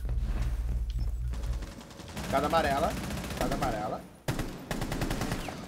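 Rapid gunfire from the video game Rainbow Six Siege rattles in dense bursts, loud and close, with a pause before another burst, while players talk over it.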